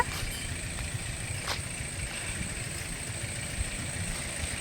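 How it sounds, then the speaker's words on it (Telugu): A tractor ploughing a farm field sends a low, steady engine drone from a moderate distance, with no one talking. "మా వాళ్ళు అయితే ట్రాక్టర్ దున్నుతున్నట్టున్నారు సౌండ్ అయితే వస్తుంది"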